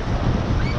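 Surf at a beach in Canada rushes in a brief, loud, steady wash, mixed with buffeting wind noise on the microphone.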